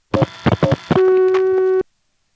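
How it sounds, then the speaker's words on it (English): A 1976 NX2 crossbar telephone exchange in Hague, Virginia clicks and thumps through several relay clacks, then a steady tone sounds for nearly a second before cutting off abruptly to silence. "It sounds like it's starting to give us a dial tone, but then the dial tone it tried to give us would have been coming from a register that is not working"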